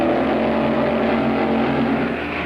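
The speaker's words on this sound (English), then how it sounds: "Gene Snow's rambunctious Dart out of Fort Worth, Texas. The supercharged gas dragster, Greg Gibson, White Plains, New York." Gene Snow's Dodge Dart from Fort Worth, Texas races a supercharged gas dragster driven by Greg Gibson of White Plains, New York; a loud, steady engine roar drones throughout with no pauses or talk.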